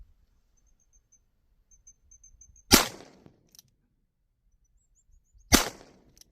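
Two sharp, loud revolver shots about three seconds apart from a Ruger Blackhawk .357 Magnum fired at a distant steel target outdoors, each with a short decaying echo, with faint insect chirping between.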